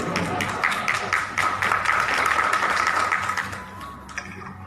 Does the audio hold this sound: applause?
yes